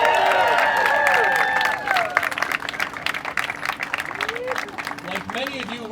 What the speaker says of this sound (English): how about another round of applause for the guys on the front?